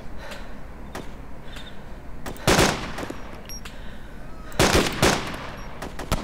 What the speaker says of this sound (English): Shoot them up, shoot them up.